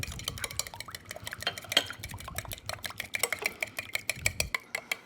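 A spoon whisks egg in a bowl with quick, steady clinking and scraping strokes, close and moderately loud, with no voices over it.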